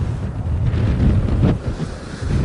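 High winds blowing across Kern County near Bakersfield, loud continuous buffeting gusts rumbling against the microphone, rising and falling in strength.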